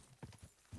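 Horse hooves clip-clop in the video game Kingdom Come: Deliverance II, a few faint, uneven hoof strikes in quick succession with a low, dull thud.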